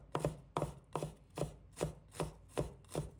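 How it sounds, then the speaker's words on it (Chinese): Knife mincing ginger on a cutting board, eight crisp, evenly spaced chops at a brisk steady rhythm, close and clear with no voices. "随后切成姜末。"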